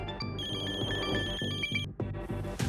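A phone rings with a bright electronic tone that repeats, fairly loud and close, cutting off briefly before starting again.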